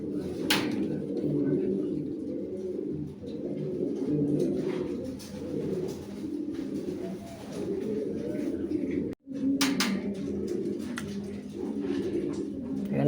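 Lahori pigeons on a farm coo continuously in low, rolling calls, fairly close and steady throughout, with occasional higher chirps and a brief dropout near the end.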